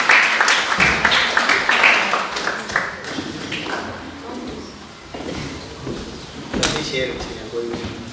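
Audience applause at a mushaira poetry gathering, a burst of hearty clapping that thins out and then swells again briefly, mixed with voices and room noise.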